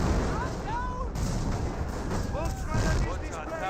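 Artillery fire from 25-pounder guns in the game Company of Heroes, heard as dense, continuous booming and crackling combat noise with whistling shell sounds, all under steady talk.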